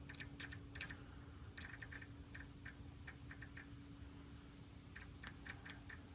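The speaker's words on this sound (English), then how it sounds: "that was the same clicking I heard when I was hitting the button with it on." Faint, quick clicks in short irregular bursts come from a faulty window regulator motor inside the door of a Ford Super Duty truck, heard close up over a steady low background hum with no talking.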